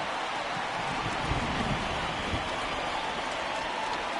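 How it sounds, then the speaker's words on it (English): Rain falls in the baseball video game MLB The Show 20, a steady, even hiss of downpour that holds at a constant moderate level throughout, with no voices. "the rain's starting to intensify here. It's coming down a little heavier now."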